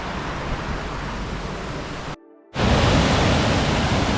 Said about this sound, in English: So a little waterfall.